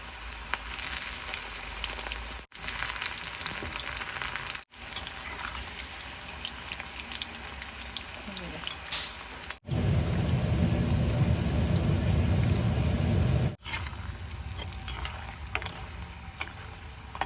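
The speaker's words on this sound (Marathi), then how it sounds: "आपलं हे तेल छान तापलेलं आहे आपण आता यात हे सोडूया" Bitter gourd chips fry in hot oil, a close and continuous sizzle and crackle that swells louder for a few seconds in the middle, with brief cuts in between.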